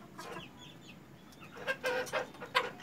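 Black Australorp hens about 75 days old clucking in a coop, with soft scattered clucks early on and a cluster of louder, closer clucks in the second half.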